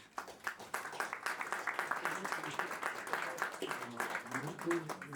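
An audience at a tourism medal ceremony claps for Madame Danielle Diligent, a quiet, fairly faint spread of individual claps running throughout, with voices murmuring underneath.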